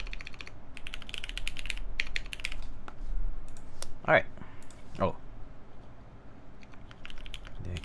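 Keystrokes on a Cyberboard R2 keyboard with lubed Cherry MX Brown switches, Deskeys films and a GMK Handarbeit keycap set, a soft uneven patter of typing under talk, with a couple of sharper louder clacks in the middle.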